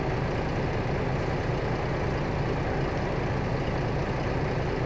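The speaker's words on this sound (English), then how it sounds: "that's the normal engine sound" Heavy truck engine idling steadily in Euro Truck Simulator 2, a continuous low rumble with even mechanical drone that holds constant throughout, loud and close with no talking.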